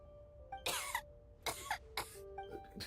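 A Genshin Impact character coughs in several rough, separate bursts, close and clear over a quiet tonal background, with no talking.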